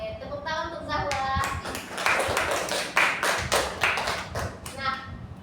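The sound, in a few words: classroom applause for a student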